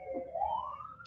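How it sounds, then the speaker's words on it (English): A short siren wail sweeps upward in pitch over about a second, fairly faint and alone. "Cue siren."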